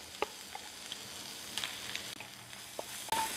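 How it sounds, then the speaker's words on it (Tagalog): Tomato paste being sautéed in a pan, a quiet steady sizzle with occasional soft clicks and stirring scrapes and no talking. "gisahin lang natin ito para matanggal yung asim ng ating tomato paste for few minutes"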